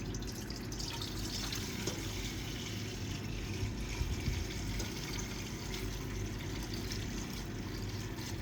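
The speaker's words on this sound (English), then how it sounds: "Pour it right on into the cell." Silver nitrate electrolyte is poured into a silver refining cell, producing a faint, continuous trickle and splash of liquid against a steady low background hum.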